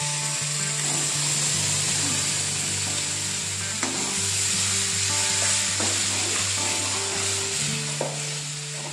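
Palm pulp stirred into coconut frying in ghee, a continuous close sizzle with scraping stir strokes and a low steady hum running underneath throughout.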